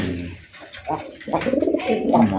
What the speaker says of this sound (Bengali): এটা হচ্ছে কালারিং রাসগোল্লা কবুতর, বুক সাদার মধ্যে লেস সাদা